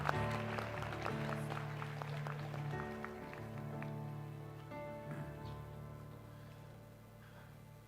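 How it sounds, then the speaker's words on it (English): An awards-ceremony crowd at a university gala claps beneath steady background music, starting with crisp claps that thin out and slowly fade over several seconds. "A round of applause, please."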